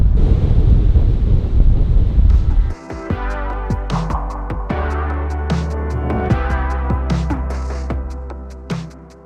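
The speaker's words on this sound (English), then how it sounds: "It's very windy." Strong gusting wind buffets the microphone above a coastal rock pool, loud and continuous for the whole stretch, with a sharp drop partway through followed by steadier low rumbling and scattered clicks.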